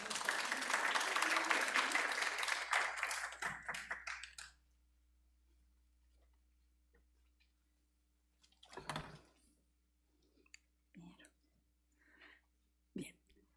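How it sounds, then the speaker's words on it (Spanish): Loud applause from an audience fills the first few seconds, then fades into a quiet room with a few scattered knocks and rustles. "Démosle un aplauso, por favor."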